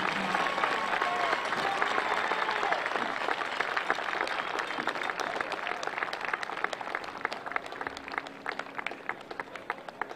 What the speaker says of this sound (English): let's all give a round of applause for the senior class of